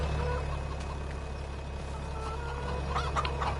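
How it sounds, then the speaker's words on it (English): Chickens cluck faintly in Farming Simulator 25, a few soft calls near the end over a steady low engine-like hum and game ambience. "I'll try not to run over any chickens."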